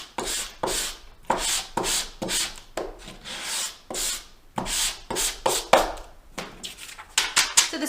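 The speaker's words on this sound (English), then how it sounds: "I'm just gonna go over it and sand it just a bit" Sandpaper rubs over a paper printable to distress it, giving a series of close, scratchy strokes in an uneven back-and-forth rhythm with short pauses between them.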